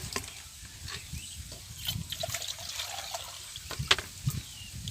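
Water poured for washing hands, a close trickle and splashing with small drips and irregular spatters over a quiet background.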